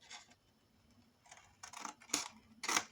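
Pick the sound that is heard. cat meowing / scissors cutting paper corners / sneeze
scissors cutting paper corners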